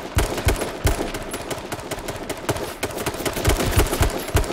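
Rapid bursts of gunfire from the H1Z1 battle royale game crackle continuously, loud and dense, with overlapping shots and no voices.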